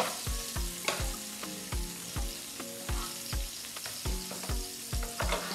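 Swordfish sears in a pan with butter, giving a steady sizzle that runs the whole time beneath a regular thumping beat of repeated low strikes.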